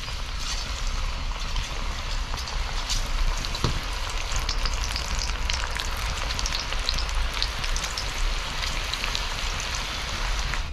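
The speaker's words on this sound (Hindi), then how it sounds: "और तेल में इस तरीके से डालते जाएंगे" Spinach, cauliflower, onion and potato pakoras deep-frying in hot oil, giving a steady, dense sizzle like rain that runs unbroken at an even level throughout.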